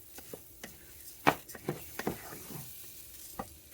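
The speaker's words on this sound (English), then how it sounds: "we're going to stir to coat that" Rice stirred and toasted in melted butter in a pot, with soft scraping strokes and light sizzling, a few sharper utensil taps standing out.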